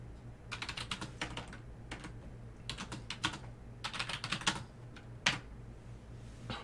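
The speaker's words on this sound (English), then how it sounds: "Let me see if I can type this up real quick." Computer keyboard keys are tapped in quick bursts of close, crisp clicks with short pauses between runs, over a steady low hum.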